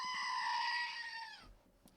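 A person imitates a goat with a loud, sustained, bleating scream that wavers for about a second and a half and then stops abruptly, leaving a quiet room.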